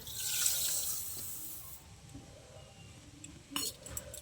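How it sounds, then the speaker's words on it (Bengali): Tap water runs into a pot to wash rice, a faint steady stream that cuts off partway, followed by a brief clink and splash near the end. "এই পাত্রে জল নিয়ে নিচ্ছি।"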